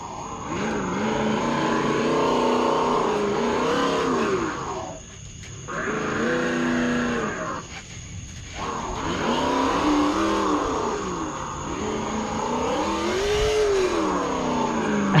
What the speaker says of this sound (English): So I went back and messed with the engine sounds a little bit.